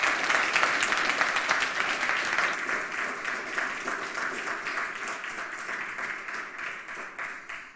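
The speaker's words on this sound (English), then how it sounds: "So please give her a round of applause." Sustained round of applause from a conference audience at the 27c3 hacker congress, dense and steady clapping from a large crowd that gradually thins and softens toward the end.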